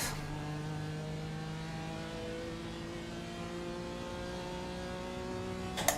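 Steady engine drone of a 2018 BMW M4 GT4 (F82) race car on track, strong harmonic whine held at near-constant pitch, continuous and fairly loud throughout, a short clatter at the very end.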